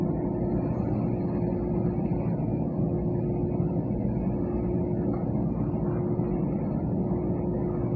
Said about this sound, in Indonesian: Pesawat juga antri.